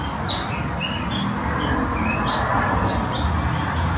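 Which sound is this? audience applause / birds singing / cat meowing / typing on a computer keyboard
birds singing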